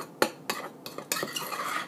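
A utensil stirs a chocolate gravy mixture in a pan, giving repeated close scraping and clinking strokes in an uneven rhythm.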